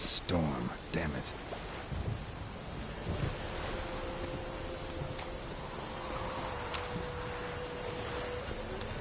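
A rainy thunderstorm in the video game Witcher 3 gives a steady hiss of rain with low rumbling underneath. Voices speak over it and a few clattering knocks come early on.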